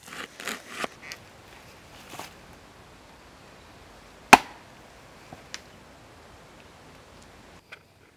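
An axe chops into tinder fungus in a few sharp strikes, one loud crisp blow standing out among lighter taps and scattered handling rustles in an otherwise quiet outdoor space.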